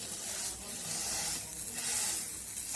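A mixture of boiled potato and sesame seeds fries in a pan, making a soft, breathy sizzle that swells and fades gently in waves, quiet and close, with no voices.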